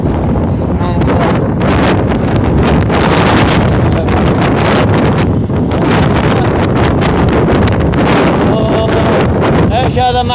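Fierce storm wind pounds the microphone nonstop, a loud rough roar with crackling buffets that never lets up, ending in a few sharper knocks.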